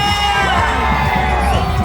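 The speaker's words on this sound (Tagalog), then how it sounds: "Barangay San Jose sa malakas na hiyawan" A loud crowd cheers and shouts together at a Pasig city celebration, a dense burst of voices with high whoops rising over the roar.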